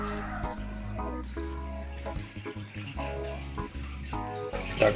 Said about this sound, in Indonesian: Selanjutnya kita kasih airnya.